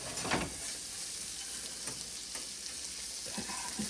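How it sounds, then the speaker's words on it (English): Meatballs fry in a pan, a steady close sizzle and crackle with a few brief stirring scrapes, with no talking. "we put the rest of those meatballs in. Let them get cooked up."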